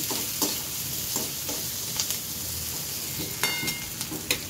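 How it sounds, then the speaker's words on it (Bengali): Garlic and onion fry in a small amount of oil, giving a steady sizzle broken by sharp scraping clicks from repeated stirring in the pan. "রসুন পেঁয়াজটা দিয়ে দিলাম, কম তেল, যেটুকু তেল ছিল সেটুকু তেলটা দিয়ে ভাজছি"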